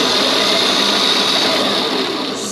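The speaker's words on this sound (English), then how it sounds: "It spins a lot slower in reverse" A car alternator converted into a go-kart motor spins in reverse, giving a loud, steady, high whirring drone that holds constant throughout.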